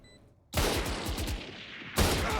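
Gunfire in Valorant, with a Phantom rifle fired in a competitive match: a sudden burst of rapid automatic shots after a quiet start, then steady firing and a second loud volley near the end.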